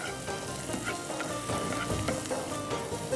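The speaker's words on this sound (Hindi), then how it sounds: "इसी भगार के साथ मैं इसमें प्याज डाल दूंगी" Onions sizzle in hot oil for a tempering, a close, steady crackling fry with light stirring throughout and no voices.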